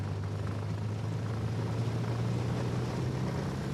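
A low, steady engine drone with a tonal hum fills the air during a surveillance flight over a park in Malawi, continuous and fairly loud with no voices.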